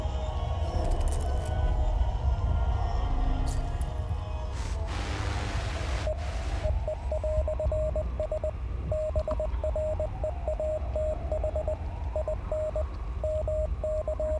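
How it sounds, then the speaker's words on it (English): A steady Morse code signal from the game Hell Is Us: a thin, high beeping tone in regular dots and dashes that repeats over a constant hiss of static, preceded by some radio crackle. "That is Morse code."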